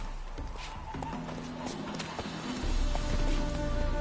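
Horse hooves clip-clop at a steady pace in The Witcher 3 during a ride around Novigrad, close and continuous under a bed of game music, with no talk.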